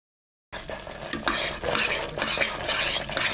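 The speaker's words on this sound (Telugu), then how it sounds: "ఇందులో బెల్లం వేసుకొని బెల్లం బాగా కరిగేదాకా అయితే బాగా కలుపుకోవాలండి" Melted jaggery being stirred in a metal pan for a sweet poornam filling, a spoon scraping and clinking steadily against the pan with a faint sizzle, close and fairly loud after a brief silence at the start.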